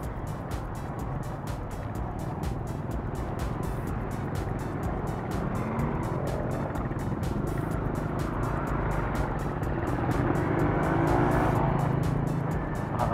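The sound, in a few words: road traffic heard on a motorcycle ride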